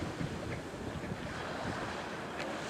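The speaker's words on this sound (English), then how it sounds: "The sea very gently lapping the shores, but there's this cooling breeze" On the Isle of Man shore, the sea laps gently in a faint, continuous wash, with breezy wind rumble over the microphone and no voices.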